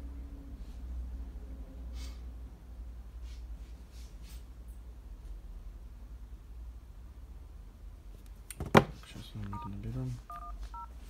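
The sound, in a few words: telephone number being dialed, dialing tones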